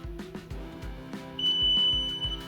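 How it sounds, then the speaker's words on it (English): An electrical tester used while replacing a wall outlet gives a sustained high-pitched electronic beep partway through, over a background of rhythmic low thumping. "You see that it responded with a beep."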